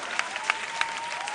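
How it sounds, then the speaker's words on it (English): A school quiz competition audience applauds the contestants, a dense steady wash of clapping with a few louder individual claps and a faint high whistle running through it. "A round of applause to our contestants,"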